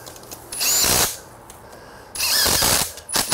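A power tool drives the fork bolts on a Thumpstar TSF 250 X3 dirt bike during assembly, with two loud, close bursts of whirring and ratcheting separated by a brief pause.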